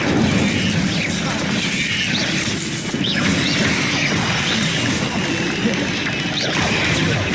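The Incendio fire spell cast in the Hogwarts Legacy video game: a loud, dense blast of whooshing flame and crashing impact noise that fills the whole stretch without letup, with no speech over it.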